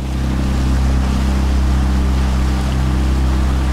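The outboard motor of an H:Skiff 13 runs steadily on open water near Galveston Island, a loud, constant low drone with wind and splashing washing over it, no voices.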